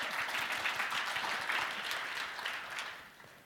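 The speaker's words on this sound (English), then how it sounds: "yes, let's clap." An audience at an arts summit panel gives a warm round of applause, a dense, steady wash of clapping that fades slightly toward the end, with no talk over it.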